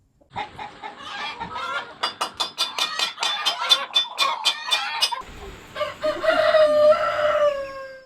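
Ornamental chickens in a coop, a rooster crowing in a series of sharp repeated calls followed by a longer drawn-out crow, with clucking around it, close and clear.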